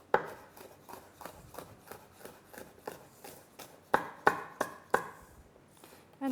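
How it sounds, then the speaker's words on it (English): A sharp knife chops through potato into julienne slices on a board, a steady series of crisp cuts followed by a louder, quicker burst of chops near the end, close and without talk. "Just cutting through that. And then just chop them in half again."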